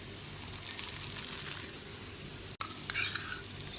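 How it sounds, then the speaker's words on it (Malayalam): Fried peanuts and potatoes are stirred into a pan of onion poha, a steady close sizzle with scraping spatula strokes and a brief clatter near the end. "ഇനി ഇതിലേക്ക് വറുത്ത് മാറ്റി വെച്ച നിലക്കടലയും ഉരുളക്കിഴങ്ങും ചേർക്കാം."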